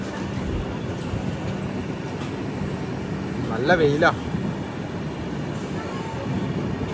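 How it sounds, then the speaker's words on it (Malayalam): Suburban train at a Chennai railway station, a steady broad rumble of the train running through the whole stretch, with a person speaking briefly over it. "അതിലേക്കാണ് ആ ട്രെയിൻ വന്നത്."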